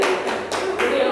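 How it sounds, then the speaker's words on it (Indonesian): A classroom of students clapping their hands together in short bursts, several quick rhythmic claps close and fairly loud, with voices mixed in. "Tepuk tangan dulu."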